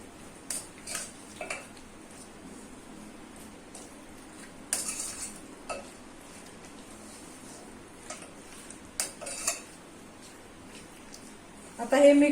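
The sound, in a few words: mixing chicken with salt and turmeric in a bowl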